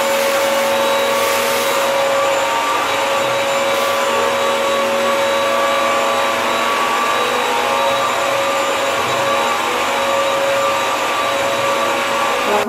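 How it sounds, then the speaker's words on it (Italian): A Bissell CrossWave Pet Pro floor washer runs a dry vacuum pass over spilled flour and rice, giving a loud, steady motor whine with a constant airflow roar throughout and no talking. "faremo prima un'aspirazione a secco, ho messo della farina e ho messo del riso che non si vede ma lo sentirete sicuramente"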